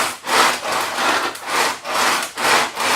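Rhythmic scraping as a DCC guitar kit rim is sanded on a radius dish with a twisting motion, about six even strokes swelling and fading, close and loud.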